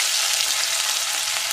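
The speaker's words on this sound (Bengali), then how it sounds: "পেঁয়াজ কুচিটা 1 মিনিট ভেজে নেব একটু।" Chopped onions fry in hot oil with whole spices such as cinnamon, giving a steady, close hiss that holds evenly all the way through without a pause.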